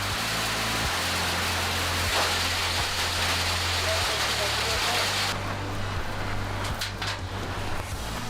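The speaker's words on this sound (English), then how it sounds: "a heavy rain with hail suddenly began" Heavy rain with hail pours down steadily on Lake Zhasylkol grounds near a guest house, a dense, loud, continuous roar with a low rumbling hum running underneath, easing slightly toward the end.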